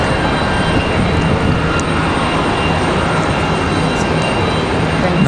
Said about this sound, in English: Our United about to make touchdown.